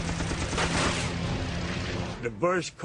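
Dense, continuous rattling bursts of rapid aircraft machine-gun fire during a Guadalcanal air battle fill the clip, with a voice briefly rising at the end.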